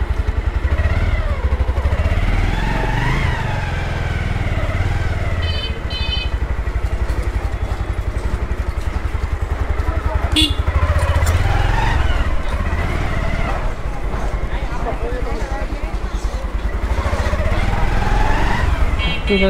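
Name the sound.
Bajaj Pulsar motorcycle engine while riding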